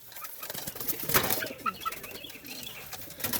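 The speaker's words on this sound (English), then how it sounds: "These are my young homer pigeon babies, my white babies." Young white homing pigeons in a backyard loft, with soft, close cooing and a brief flutter of wings around the middle, over faint background rustling.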